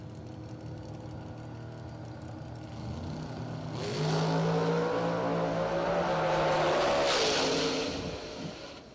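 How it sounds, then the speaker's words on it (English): Drag race cars launch and accelerate hard, a loud rising engine roar building from a steady idle and peaking before fading as the cars pull away. "Good drag race."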